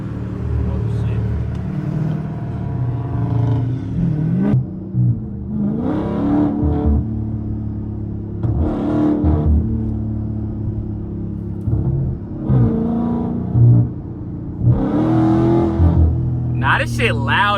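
Straight-piped Dodge Scat Pack with no cats: deep, loud exhaust rumble with repeated revving surges, heard from inside the car under frequent speech.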